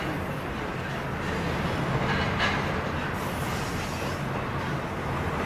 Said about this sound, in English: He's waiting for the train.